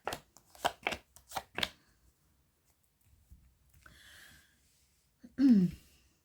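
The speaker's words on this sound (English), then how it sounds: "Let's take a couple of cards out and see what the tarot has to say for you." Tarot cards handled close up: a quick run of five sharp riffling shuffles, then a pause with soft rustling as cards are drawn, ending in a brief airy breath-like sound.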